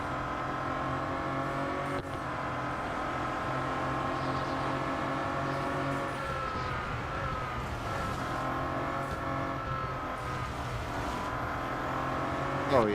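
Bentley Continental GT Speed racing in Real Racing 3, a steady loud engine drone with harmonic tones shifting as gears change, running continuously throughout.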